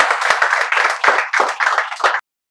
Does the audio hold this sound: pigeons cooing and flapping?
no